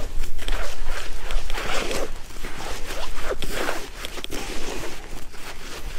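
Wet feeder groundbait packed with wheat and corn particles is stirred roughly by hand, giving close, continuous rustling and scraping strokes in a loose rhythm, with no voices over it.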